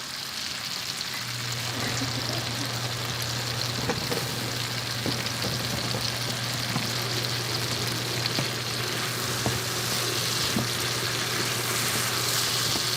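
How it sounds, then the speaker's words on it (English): Mushrooms, garlic cloves and yellow pepper fry in a pan with a steady, close sizzle and occasional stirring clicks, over a low constant hum, with no talking. "I'm going to add my 2 cloves of garlic in with the mushrooms and my yellow pepper."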